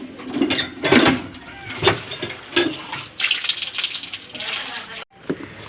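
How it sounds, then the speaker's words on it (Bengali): Water splashes and runs as a fish is rinsed by hand in a kitchen, with irregular sloshing bursts and faint clinks, while someone speaks over it. "মাছটা ধুয়ে নেব।"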